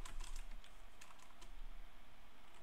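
Fingers typing code on a computer keyboard, a steady close clatter of quick key presses running throughout with a faint background hum, no speech.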